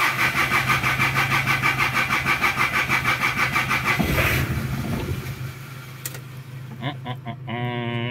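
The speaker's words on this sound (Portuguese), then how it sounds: "E quando ela fica assim, que eu fico tentando ligar muito tempo, a bateria dela vai logo pro saco." Galloper engine cranking repeatedly with a rhythmic starter chug, then a brief catch and rough stumble before falling quiet, with a few short mechanical clicks and squeaks at the end.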